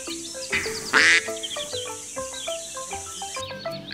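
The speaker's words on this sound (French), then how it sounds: "Au grand bonheur des canards et de leurs rejetons." Several ducks quack close by in a lively cluster of calls, a couple of louder squawks standing out among the chatter.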